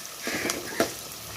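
Onions and curry leaves sauté in a pan for a catfish curry, producing a soft, continuous sizzle with a couple of brief stirring scrapes.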